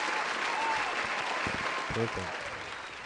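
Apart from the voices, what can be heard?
applause sound effect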